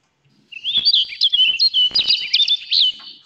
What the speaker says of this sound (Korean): 꾀꼬리 소리였다